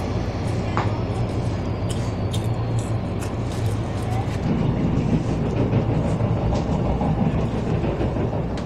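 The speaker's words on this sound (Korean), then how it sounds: "우리 열차는 창원 중앙역에 도착합니다." A Korail Mugunghwa passenger train on the Gyeongjeon Line rumbles steadily with a low, continuous roar and faint rattling, heard from inside the carriage as it runs toward a stop at Changwon Jungang Station.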